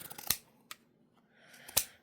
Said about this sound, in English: pinking shears when I go around the curve, just to help reduce some of the bulk